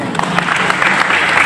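A crowd applauds loudly at a memorial gathering, with dense, rapid clapping that runs for the whole short moment, close and without a break.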